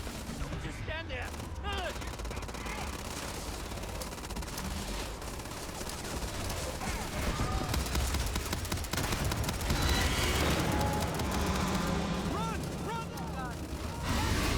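Sustained gunfire in the sci-fi game Starfield as a weapon fires at an alien Terrormorph attacking a city, dense and continuous bursts over a busy mix, with voices shouting over it.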